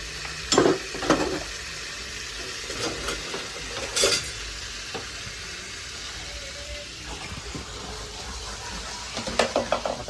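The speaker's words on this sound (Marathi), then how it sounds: "बटर टाकून झालेलं आहे, त्याच्यामध्ये टाकूया आपण कांदा." Chopped onion goes into melted butter in a pan for pav bhaji, giving a low sizzle with clattering spatula scrapes and clinks in bursts across the span, fairly quiet overall.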